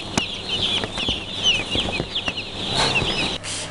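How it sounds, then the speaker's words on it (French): Newly arrived chickens cluck and squawk close by in a farm setting in South Africa, a lively overlapping chorus with occasional wing flaps and knocks. "enfin les premiers poulets sont arrivés"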